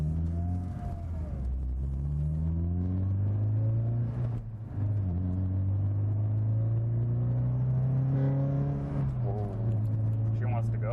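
A Honda car on new, larger tires pulls away with a loud, close engine note whose pitch climbs in repeated sweeps as it accelerates and shifts. A rumbling drone fills the cabin throughout.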